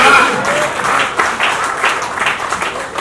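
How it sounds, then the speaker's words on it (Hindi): Applause at a Hindi comic poetry gathering (kavi sammelan), a sustained, loud crowd of clapping hands that rises and falls slightly over a few seconds. "वो भारी भरकम सब किलो वेट लेकर के आ गया हूँ मंच पर, तालियां बजाइए।"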